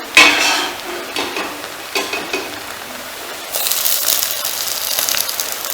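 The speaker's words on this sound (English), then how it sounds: "I'm going to add the rest of the muthia into the oil now." Muthia dumplings for undhiyu sizzle and bubble in hot oil, a near, steady frying hiss with a few utensil clinks, swelling louder for the last couple of seconds as more dumplings drop in.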